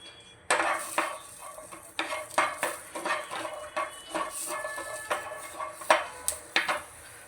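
Garlic and chopped shallots frying in a pan, with repeated clinks and scrapes of a spoon against the metal and a low sizzle underneath, close by with no talking.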